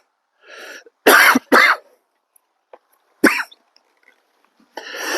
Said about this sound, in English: We'll desensitize him to the cough.